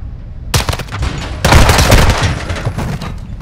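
Loud, close gunfire in Call of Duty: Modern Warfare II during an indoor prison-break firefight. Dense overlapping shots and bursts arrive in two heavy waves, with echoing booms behind them.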